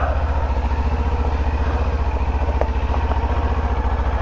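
Engine of a 2022 Kawasaki Z400 motorcycle, loud and close, a steady rapid thumping pulse at constant speed throughout with no voices over it.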